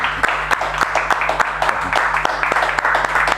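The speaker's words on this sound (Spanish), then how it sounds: "¿Te molesta si le podemos dar un aplauso al hombre?" A small audience claps for a man at a Falklands War remembrance event, with sharp, closely spaced individual claps forming a loud, uneven round of applause nearby.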